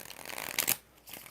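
Tarot cards are shuffled in a quick riffle, a continuous papery flutter building to a brighter snap near the end, then a short pause before a softer flutter resumes.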